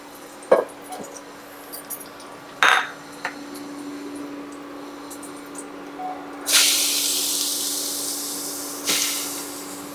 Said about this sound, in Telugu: ఇప్పుడు మిగిలిన ఈ నెయ్యిలో వచ్చేసి సొరకాయ వేసి వేయించుకోవాలి.